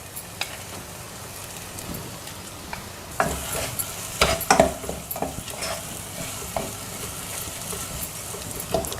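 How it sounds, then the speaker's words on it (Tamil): Corn makhani masala stirred in a pan, giving a steady sizzle broken by clusters of sharper scraping and clinking strokes that grow louder midway; no talking. "கொஞ்சம் ஒரு கிளறிடலாம்."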